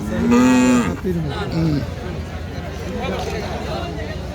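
A big, heavy cow at a busy traditional cattle market gives a loud, close moo lasting about a second, then a shorter lowing call follows, with crowd chatter and babble continuing underneath throughout.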